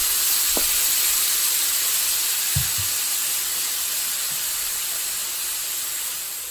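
A burger and onions doused with beef au jus sizzle on a grill in a loud, steady, hissing fry with a few faint clanks and scrapes underneath.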